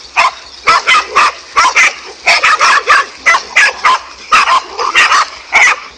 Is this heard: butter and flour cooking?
no